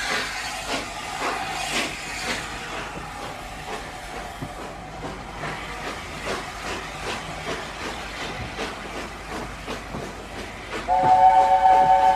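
A steam train runs steadily with a chuffing rumble and hiss, and a sharp whistle sounds loudly near the end.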